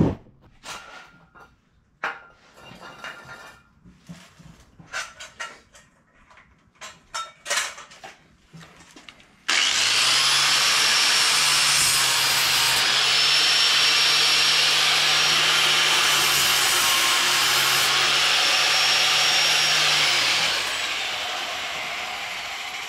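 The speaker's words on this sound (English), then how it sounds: "I'm going to use my flappy wheel and just kind of smooth that back down real quick." Scattered metallic clinks and tool handling lead into a flap wheel on a powered tool smoothing the edge of a tapped hole, a loud, steady high whine held for about ten seconds before it spins down.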